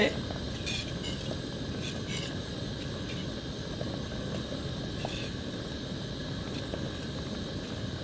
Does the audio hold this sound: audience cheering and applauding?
no